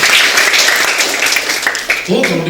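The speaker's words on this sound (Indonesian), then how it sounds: "Tepuk tangan buat Tuhan kita." A church congregation claps at a Pentecost Sunday service, loud and dense, with a voice cutting in near the end.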